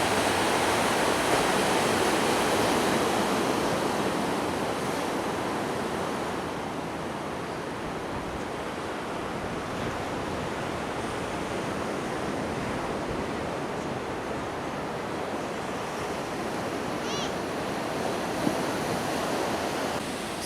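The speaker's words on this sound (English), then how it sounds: "Just the sound of the ocean alone, man. It's great." Ocean surf rolls steadily onto Myrtle Beach at night, a continuous broad wash of breaking waves that stays loud and even throughout, with no talking.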